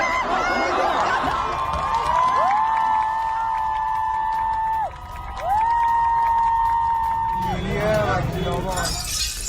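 A protest crowd in Iran hoots with long, sustained wavering calls over a noisy mass of voices, with a burst of shouting and clatter near the end.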